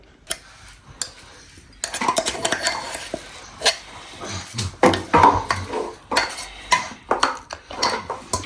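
Coconut mix is added to shredded chicken for chammanthi and worked together in a dish, with repeated clinks and scrapes of a spoon against the bowl in an uneven, fairly close rhythm and no talking.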